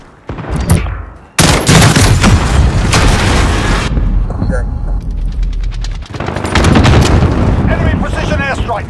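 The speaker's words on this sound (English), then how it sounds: "Enemy precision airstrike!" Precision airstrike explosions in Call of Duty: Modern Warfare, loud repeated booming blasts mixed with gunfire in long dense stretches, with shouted voices over the din.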